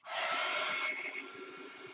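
A hair dryer blows air onto a stick-pick craft project while it dries, giving a steady loud whoosh that drops a little in pitch partway through and keeps running to the end.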